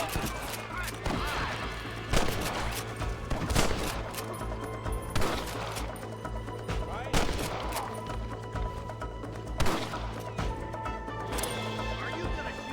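Gunfire crackles in Red Dead Redemption during a shootout with rustlers, sharp shots and bursts landing at irregular intervals over a constant background rumble, with voices shouting in the mix.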